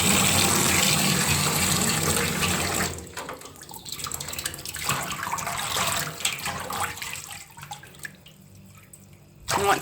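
Tap water runs into a shallow lukewarm bath being prepared for a bearded dragon, a loud steady gush that turns to splashing and trickling, close and without talk.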